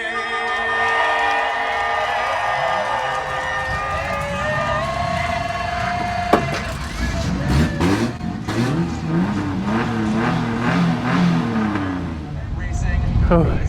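Several high-horsepower race cars rolling around on a pace lap, a continuous layered engine drone with shifting pitch and revving swells, fairly loud and steady, with a single sharp knock partway through.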